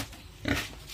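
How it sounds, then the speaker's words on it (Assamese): A pig on a farm gives a short grunting oink midway, close and fairly quiet against a faint steady background. "বৰ্তমান মোৰ কেইটামান গাহৰি আছে"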